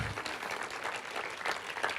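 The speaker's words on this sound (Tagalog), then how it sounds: "malakas po na palakpak sa Panginoon" A church congregation at a worship service applauds the Lord together, giving a sustained, moderately distant wash of clapping from many people that carries steadily with no voices on top.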